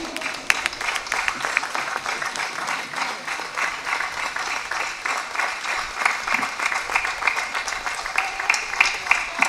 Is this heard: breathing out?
no